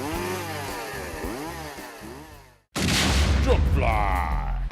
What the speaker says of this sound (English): fell that sappy fucker with a Poolan brand chainsaw